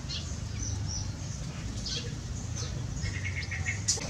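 Grey-headed babbler calling inside an aviary: faint, brief high chirps scattered over a steady low background hum.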